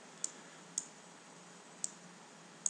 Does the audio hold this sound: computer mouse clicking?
yes